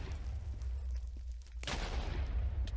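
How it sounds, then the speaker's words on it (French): An explosion cannon attack from a My Hero Academia mod in Minecraft bursts once midway through, a sudden broad blast over a low, steady game rumble. "c'est quoi ça Explosion canon"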